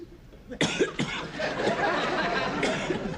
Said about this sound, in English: Yeah, but listen, I got this cough.